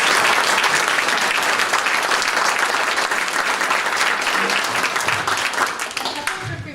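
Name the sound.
applause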